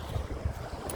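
Strong wind buffets the microphone on a sandy beach while waves wash in the background, a steady low rumble with brief gusty thumps and no speech.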